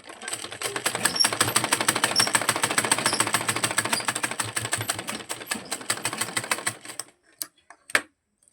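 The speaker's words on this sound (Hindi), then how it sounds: "तो चलिए पहले मैं सिलाई लगाती हूँ। इसी प्रोसेस से हम पूरे गले की पट्टी पर सिलाई लगा लेंगे।" Sewing machine running steadily, stitching a blouse neckline band for about seven seconds, its dense rapid needle clatter loud and close, then a few isolated clicks and a thump as it stops.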